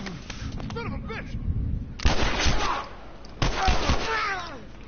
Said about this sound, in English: how about you stop shooting him?